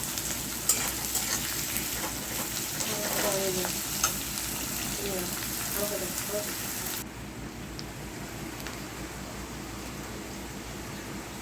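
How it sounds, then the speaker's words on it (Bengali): Onions frying in hot oil give a dense, continuous sizzle close by, with a few stirring scrapes early on; the crackle thins and quiets a little for the last few seconds. "এই পেঁয়াজটা লাল লাল করে ভাজবো বন্ধুরা।"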